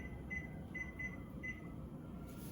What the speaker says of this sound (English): I'm gonna set a timer.